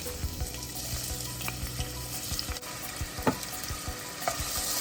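Onions sizzle and fry in hot oil with cumin seeds and dried red chilies, a steady close sizzle broken by scraping stirs and a few sharp clinks of a utensil against the pan.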